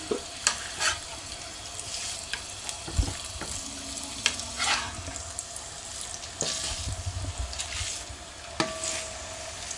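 Steaks frying in a small pan, a steady sizzle with occasional stirring clatter and scrapes, fairly close and alone with no talk over it.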